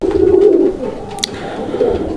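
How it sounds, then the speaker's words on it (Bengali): Large Gopalganj pigeons, a pair at a market, give low, throaty coos close by. A longer cooing phrase runs through the first half and another swells near the end, with a short chirp in between. "অনেক সুন্দর আরও একটা গোপালগঞ্জের বড় পায়রা কবুতর"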